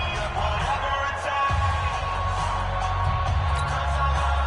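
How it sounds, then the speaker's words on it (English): Steady, roaring crowd noise fills the Dome stadium in a football video game, a constant wash of cheering and murmur with faint commentary voices beneath it. "The crowd here in the Dome making things difficult"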